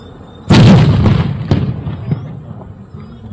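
A single heavy blast at close range: police detonate a seized suitcase, bag or bucket bomb in an open area. A loud boom is followed by a rumbling decay and a few smaller cracking pops.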